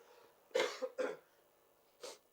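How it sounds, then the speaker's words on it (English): An adult coughs three times close up at a talk event, two quick harsh coughs in succession then a third after a short pause, with quiet room tone between. "And I'm just going to cough."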